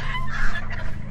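Poultry birds in ARK: Survival Evolved make a close, loud flurry of gobbling, honking fowl calls that overlap in a brief noisy cluster.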